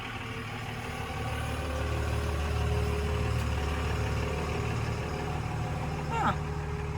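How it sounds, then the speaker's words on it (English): An old-style pickup truck with a camper on the back approaches, its engine a steady low rumble at moderate distance that grows slightly louder as it drives up. "I hear a truck."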